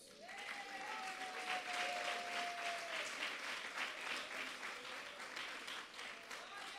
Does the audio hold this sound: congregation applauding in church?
yes